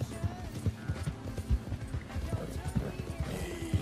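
A horse gallops through a swamp in the video game Red Dead Redemption 2, making quick, rhythmic clip-clop hoofbeats throughout, with a voice talking over them.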